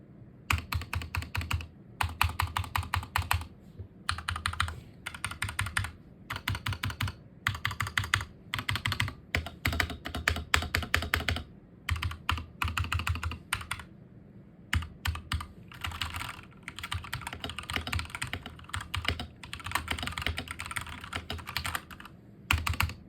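Bursts of rapid, clicky typing on a Dierya DK61 SE mechanical keyboard, loud and close, with short pauses between flurries of keystrokes.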